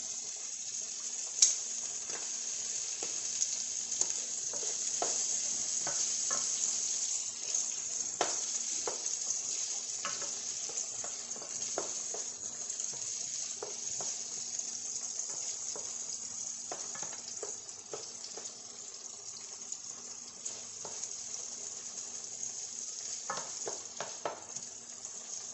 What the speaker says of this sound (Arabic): غادي نروح نقلي الحتومة بحال هكا